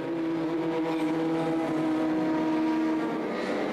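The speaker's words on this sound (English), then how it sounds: "Giovanardi crossed the finishing line to consolidate his 3rd place in the standings" A touring car engine during a championship race gives a steady, droning, harmonic whine that holds a constant pitch for several seconds, heard alone with no commentary.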